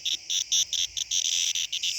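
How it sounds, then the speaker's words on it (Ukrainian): Cicadas on Crete buzz in the early morning, a loud, high, pulsing chirr that comes in quick, regular bursts very close by. "почув, що тут багато цикад"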